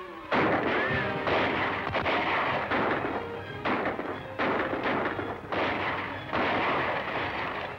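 Gunfire rings out in a 1941 western shootout, a dense run of loud, echoing shots and booms in overlapping bursts with only brief gaps between volleys.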